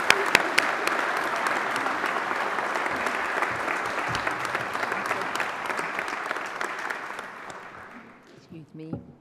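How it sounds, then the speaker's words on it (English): An audience at a graduation ceremony gives a sustained round of applause, dense clapping with a few sharp claps at the start, then fading out as a voice begins speaking. "Let's give her a round of applause for Carol."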